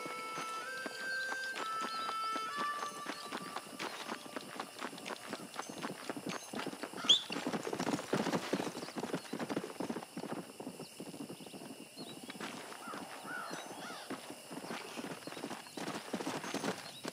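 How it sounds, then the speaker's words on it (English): Horse hooves clip-clop steadily in Red Dead Redemption, a continuous rhythmic trot at moderate distance, fairly quiet, with a brief whinny-like accent partway through and no talking. "Come here, horse."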